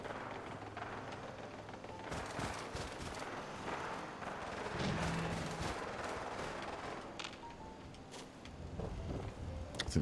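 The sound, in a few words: gunfire in a video game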